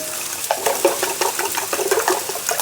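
Peas being stir-fried in a wok for Yangzhou fried rice: close, quick scraping and tossing strokes in a busy rhythm over a light sizzle.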